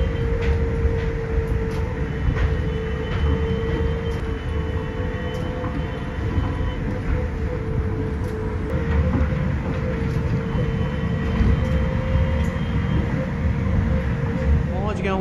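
Skytrain airport people mover at Soekarno-Hatta airport, Jakarta, heard from inside while riding toward Terminal 3: a steady loud rumble and drone with a tonal whine and faint clatter throughout, with some talk underneath.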